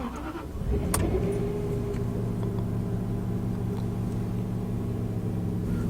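A Jaguar XJ8 X308 on a test drive after an alternator change gives a steady low engine rumble and road drone from inside the car, beginning with a brief thump, with no talk.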